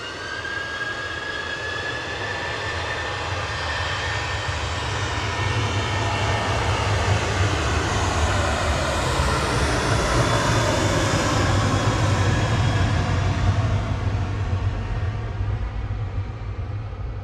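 A Jet2 airliner at Manchester Airport gives a loud, continuous roar that swells and shifts in pitch as it passes close by. No voices are audible over the engines.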